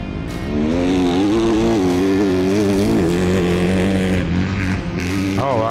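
A Husqvarna motocross motorcycle rides on an MX track, its engine loud and close, revving up and down in a continuous buzzing drone with shifting pitch, with voices faintly underneath.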